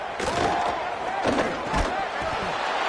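Stadium crowd roaring in College Football 27 on a big third-and-four, a loud continuous swell of cheering with a few thumping accents rising and falling over three seconds.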